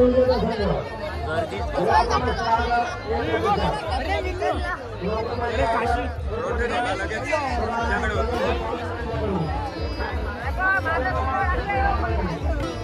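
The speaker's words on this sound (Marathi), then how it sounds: "गर्दी" Dense crowd chatter and babble at a temple village fair (jatra) in Sukalwad, Sindhudurg, Konkan, a steady continuous hubbub of many voices close around, with no single speaker standing out.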